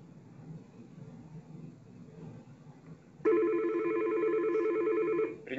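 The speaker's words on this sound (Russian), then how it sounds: "Далее я нажимаю кнопку «Конференция», набираю внутренний номер второго сотрудника." A Yealink T58 SIP desk phone sounds a steady electronic tone after its keypad is pressed to dial an internal extension, starting abruptly with a loud sustained beep pattern over faint background noise.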